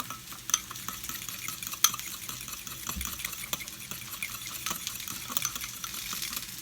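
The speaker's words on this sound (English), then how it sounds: "and then just gonna mix it" Plant-based breakfast ingredients stirred in a bowl or pan, soft wet swishing and light scraping with a few small clinks, quiet and close, with no talking.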